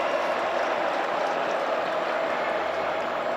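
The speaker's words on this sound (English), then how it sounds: "You hear the crowd rise up a little bit here" Stadium crowd at a Notre Dame home college football game against South Florida, a steady broadband roar of many voices swelling slightly, continuous and distant-sounding with no clear talk on top.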